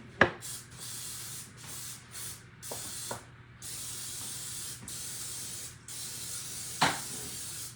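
Baker's Joy baking spray hisses from a can in several short bursts, interrupted by brief pauses, close by and moderately loud, in a kitchen while a breakfast fruit loaf is being prepared.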